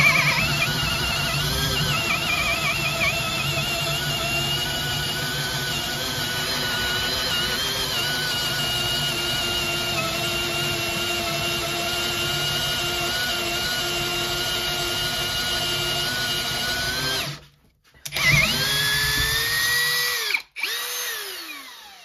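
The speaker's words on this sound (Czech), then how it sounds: "Tak a teď jdeme na vrták s tím průměrem 24 mm. Samozřejmě první rychlost, režim vrtání." Cordless drill driver on first speed drilling with a 24 mm bit, a loud steady motor whine held for about seventeen seconds, then a brief stop, a restart with pitch climbing and a second short cut-off.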